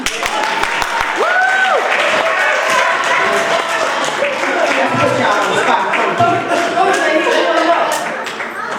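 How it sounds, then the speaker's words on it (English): Crowd clapping at a youth basketball awards celebration, a dense, steady wash of applause mixed with cheering and voices that holds loud for several seconds, then eases slightly at the end. "Everybody clap!"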